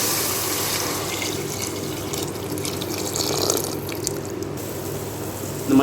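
Water pours steadily into a cooking pot for mushroom biryani, a continuous close splashing rush that swells slightly toward the end, with no talking.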